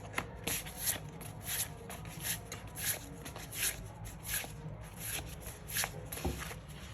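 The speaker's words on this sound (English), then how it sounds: "how am I supposed to shuffle? Oh my god." Tarot cards being shuffled by hand in repeated riffling bursts, a soft papery flutter recurring roughly every half second, close and fairly quiet with no talking.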